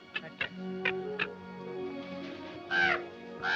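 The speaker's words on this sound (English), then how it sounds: "I can't even scare a crow." A crow caws several times in short, separate calls, with a louder caw near the end, heard close and clear over a quiet background without talking.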